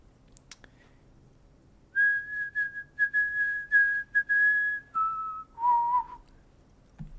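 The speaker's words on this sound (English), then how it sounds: "he joins you with a higher pitched and slightly more melodic trill" A melodic whistled trill from the video game Disco Elysium rises after a quiet start, a string of clear, high sustained whistle notes with short gaps, then stepping down to lower wavering tones, heard alone.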